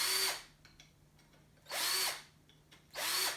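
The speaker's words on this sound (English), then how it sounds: "I'm just going to drill those through." A power drill bores through 3D printer frame pieces where a lead screw mount will go. Three short, loud bursts of whining drilling are separated by quiet pauses with faint handling clicks.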